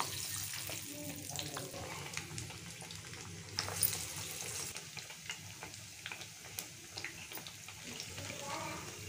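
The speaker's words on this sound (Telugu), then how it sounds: "ఇలా నూనె వేడెక్కిన తర్వాత మనం ప్రిపేర్ చేసుకున్న వడలన్నింటినీ ఇందులోకి వేసేసుకోవాలండి" Crispy masala vadas frying in hot oil for an evening snack, a steady close sizzle and crackle running throughout with small popping bursts and no pauses.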